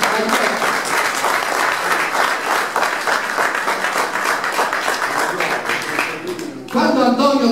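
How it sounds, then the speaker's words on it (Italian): Guests at a retirement party in Benevento applaud steadily and densely for several seconds; near the end the clapping drops and a voice begins speaking. "vi chiedo un applauso extra per Antonio Picocillo"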